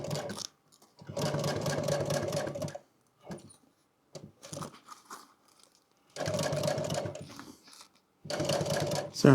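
Sewing machine stitching upholstery material for a double-diamond motorcycle seat, running in three long steady bursts of a few seconds each, close and fairly loud, separated by short pauses with small handling noises.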